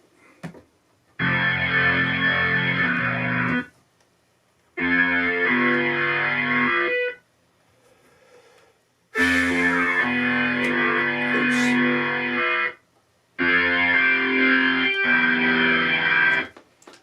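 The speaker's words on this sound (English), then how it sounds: "Might be a little bit too distorted. VA rock organ." A virtual analog rock organ patch plays distorted, gritty chords in four sustained bursts separated by short silences, loud and close with a buzzing edge.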